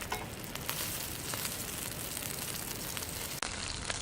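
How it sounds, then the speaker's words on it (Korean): Hangjeongsal pork neck frying over low heat on a camp stove at a mountain campsite deck, giving a steady, close crackling sizzle with soft pops and no talk. "다시 잘 익어가는 항정살. 약한 불에 은은하게 볶고 있습니다."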